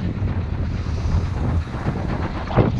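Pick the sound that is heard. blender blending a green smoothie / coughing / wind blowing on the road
wind blowing on the road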